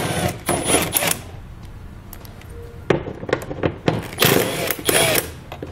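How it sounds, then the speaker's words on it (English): A 10mm socket wrench removes the taillight bolts on a 2017 Nissan Quest, producing clusters of quick metallic ratcheting clicks and clatters in short bursts, close and fairly loud, with pauses between. "we'll grab a 10mm socket and pull those out"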